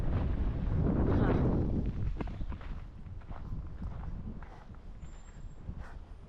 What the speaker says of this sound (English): as you can hear, the wind is really starting to pick up and it's getting a little chilly.